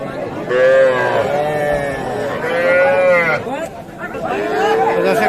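Cattle, young heifers and bulls, moo repeatedly in long drawn-out calls at a livestock market in Khochabari, close by, over the chatter of a busy crowd with people talking.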